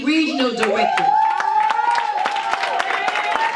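Scattered audience clapping at a TLC business seminar, sharp irregular claps running under a speaker's continuous talking.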